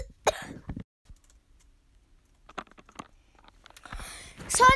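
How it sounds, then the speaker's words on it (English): Coughing from a sick boy, a short harsh burst near the start, then quiet with faint clicks, and a louder cluster of coughs and throat sounds at the end, close to the microphone. "Son, just stop your coughing."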